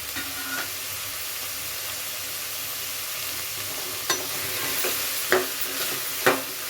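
Peanuts fry in a pan for bisi bele bath, giving a soft continuous sizzle and hiss with a few distinct scraping stirs and clinks toward the end, close but moderately quiet, with no talking.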